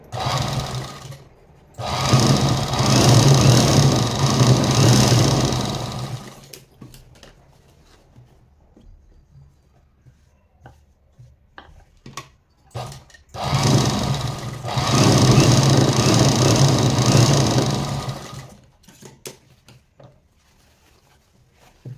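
A sewing machine stitching fabric scraps together runs in two long, loud, steady whirring bursts of several seconds each, separated by quieter handling noises.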